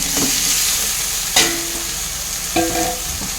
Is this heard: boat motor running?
no